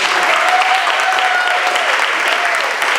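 Dense, loud audience applause at a Friday civic forum with a mayor, steady and continuous from many hands filling the room, with a faint voice or tone running underneath.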